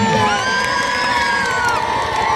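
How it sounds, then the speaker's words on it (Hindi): Loud crowd at a village wrestling match (dangal), cheering and shouting continuously with whoops and excited voices, close and dense throughout. "ताली मार दो एक बार जोरदार"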